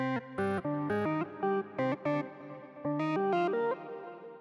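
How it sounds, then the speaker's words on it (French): A breathy flute-like synth from an Akai MPK Mini MK3 plays a short melodic phrase of staccato notes, each trailing into reverb and echo, then fading into a soft tail. "là tu vois le petit synthé flûte bounty comme ils disent là"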